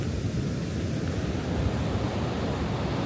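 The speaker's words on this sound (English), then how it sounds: "And there's the Pacific Ocean." Steady roar of Pacific Ocean surf on Zipolite beach in Oaxaca at night, a broad continuous wash with no distinct breaks, loud and close, with no voices.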